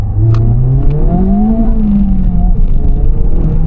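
Honda Civic Type R FL5 hot hatch engine revving and pulling hard up close, a loud steady drone with rising and falling pitch as it accelerates through the gears.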